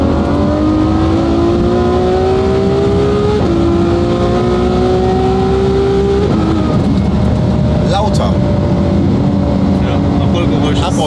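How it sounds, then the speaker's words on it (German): A Ferrari F12 accelerates hard on an open road, its loud engine note climbing through the gears with clear shifts, while people talk inside the car over the roar. "Ah, komm, wir können nochmal schneller fahren jetzt."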